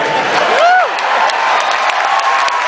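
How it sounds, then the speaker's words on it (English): Live comedy show audience applauding and cheering, a loud burst of clapping with a rising whoop near the start, then steady applause continuing to the end. "Thank you for applauding that concept."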